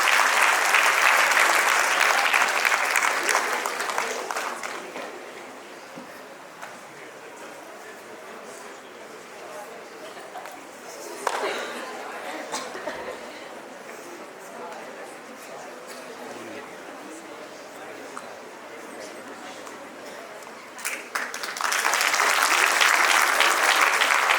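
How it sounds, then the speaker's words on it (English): Audience at a national debate awards ceremony applauding an award winner: loud clapping at the start fades into a quieter room murmur, then a second loud burst of applause rises near the end. "Let's give her a huge round of applause."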